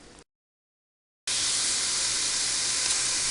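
Browned ground meat sizzles loudly in a pot as a bright, steady hiss that starts abruptly after a brief silence and continues evenly, close and without talk.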